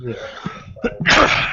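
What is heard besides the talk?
sneeze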